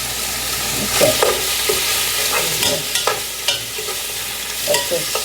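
Shrimp, chicken and vegetable stir fry sautéing in a pan over high heat, with a continuous sizzle broken by repeated scraping and stirring clatters of a utensil against the pan, close and fairly loud.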